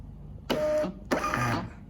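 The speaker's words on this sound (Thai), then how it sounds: "ถ้าเกิดว่ามันตรงแล้วเนี่ยเราก็กด พิมพ์ออกมานะครับ" VPOS VP-4601D thermal receipt printer, connected over Bluetooth, running two separate bursts of printing with a whirring, buzzing feed. Each lasts about half a second, with a short pause between them, and no voices are heard.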